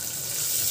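Spices tempering in hot oil for brinji rice make a bright, close sizzle that hisses steadily through the brief moment, with no voices.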